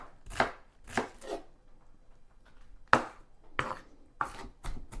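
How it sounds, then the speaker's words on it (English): A knife chops green onion on a cutting board in a home kitchen, with sharp, distinct chops in short clusters separated by quiet pauses, close and clear. "I'm just going to kind of chop it up a little bit"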